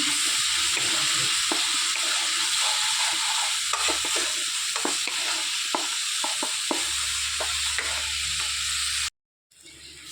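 Spice paste for chitol fish bora frying in a pan, with a little water added: a steady, loud close sizzle with scattered spatula scrapes and taps, cutting off abruptly near the end.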